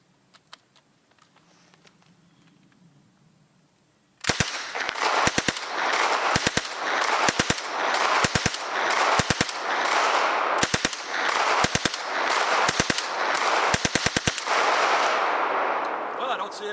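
A Belgian M2 Vigneron submachine gun fed from an MP40 magazine fires repeated short bursts outdoors, sharp cracks in quick clusters after a quiet lead-in, loud and close with echoing reverberation.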